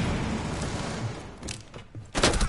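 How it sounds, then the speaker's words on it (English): A flashbang grenade going off in the video game Rainbow Six Siege: dense crackling game noise fades, then a sharp loud bang bursts near the end. "Flashbang!"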